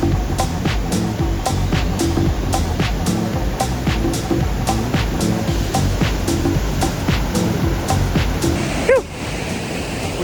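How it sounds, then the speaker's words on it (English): A rushing river flows beneath a footbridge, making a loud, close, continuous roar of churning water that stays steady throughout, with a brief bump of handling noise near the end. "The river."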